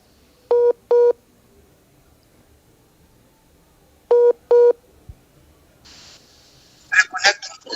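Telephone keypad tones: two quick pairs of beeps, separated by a pause, followed by brief rustling and a short burst of voice at the end.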